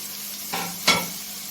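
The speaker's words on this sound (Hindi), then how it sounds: "और आलू को 2 मिनट तक भूनेंगे।" Potatoes and fenugreek leaves fry in a pan with a steady, close sizzle, broken by two brief scraping stirs; no voices.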